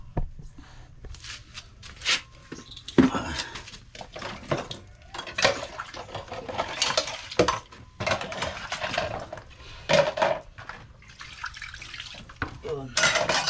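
Dishes and plates get washed in a kitchen sink, with irregular clattering of crockery and cutlery against running tap water, close by, and brief murmured voices in places.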